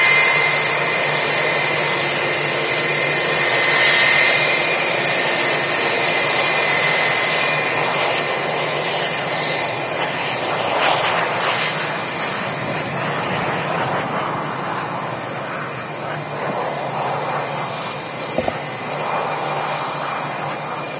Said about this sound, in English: This aircraft's in from Lisbon.